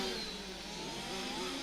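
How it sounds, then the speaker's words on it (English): Engine of an electric RC touring or F1 race car at a European championship final in Luxembourg, a continuous loud whine that wavers in pitch as the car labors around the track, with no talk over it. "You can really start to hear the engine struggling there."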